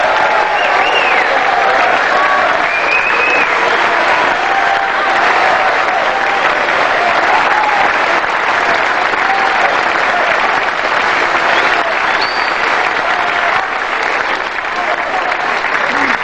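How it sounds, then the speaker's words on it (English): Sustained applause from a large crowd at a world professional pool championship fills the space, a dense steady roar of clapping with occasional cheers and voices mixed in. "A round of applause too, please, for the referees"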